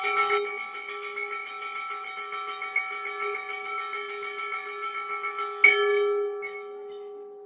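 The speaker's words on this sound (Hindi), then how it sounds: "श्री जी की ये बेल जो घंटी है इतनी दूर तक जाती है" A temple bell rings for Shri Ji's aarti, its long metallic tone humming and sustaining steadily with a few sharper strikes, one louder hit near the end before it slowly fades, with no talking.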